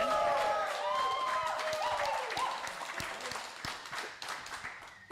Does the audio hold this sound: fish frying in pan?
no